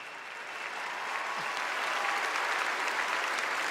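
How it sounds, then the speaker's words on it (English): Delegates at the Democratic National Convention applaud in a large hall, a dense, sustained wash of clapping that grows slightly louder and holds steady to the end. "Rachel applauds, as do the delegates."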